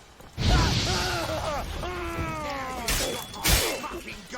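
A goat in The Witcher 3 lets out a long, wavering bleat that rises and falls in harmonic strands, loud and close, followed by a couple of sharper bursts and clatter from the game.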